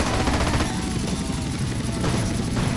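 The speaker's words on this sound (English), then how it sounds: "I'm going to have a helicopter in the street." A helicopter's rotor in Grand Theft Auto: San Andreas thumps steadily and loudly, a dense chopping drone that fills the whole clip without pause.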